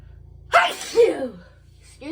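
A single loud, close sneeze bursts out over a faint steady hum, followed by a short second exhale and then quiet.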